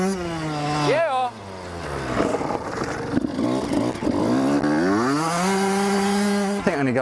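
An 80cc petrol engine fitted to a mountain bike revs hard and close, its buzzing pitch climbing and falling repeatedly as the rider accelerates and backs off throughout.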